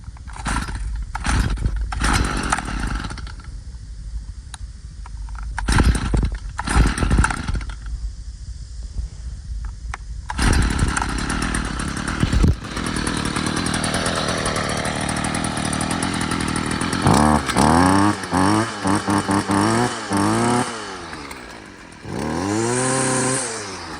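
A Stihl FS91R brush cutter is pulled over several times on choke with bursts of sputtering, then catches and runs steadily at a buzzing two-stroke idle, rising and falling through throttle blips near the end.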